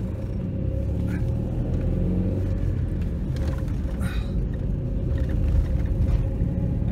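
A 2.2L Ecotec engine in a Chevrolet Cavalier/Cobalt drones steadily at low pitch, rumbling unevenly without building up, heard from inside the vehicle; it is misfiring with poor acceleration and a flashing check engine light.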